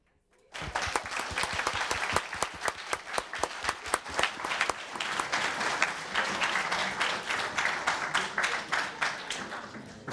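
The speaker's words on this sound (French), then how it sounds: "Allez, applaudissez-vous." Studio audience applauding at the close of a French science quiz show, a dense burst of many hands clapping that starts abruptly and carries on steadily at close range with no speech.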